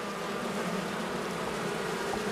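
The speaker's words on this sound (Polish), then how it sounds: "pszczoła jasna, młoda" Honeybees at a hive, its combs holding goldenrod stores, hum in a dense, continuous drone, close and steady throughout.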